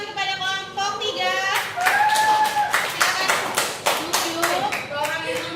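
A classroom of children claps for a student group, a run of sharp, fairly rhythmic claps close by, mixed with voices and chatter.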